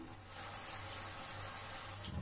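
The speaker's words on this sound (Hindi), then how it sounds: "इसमें मैं पानी ऐड कर रही हूँ" Quiet running water pours steadily into a cooking pan for veg Manchurian gravy, a soft continuous splashing like liquid filling a vessel, heard alone.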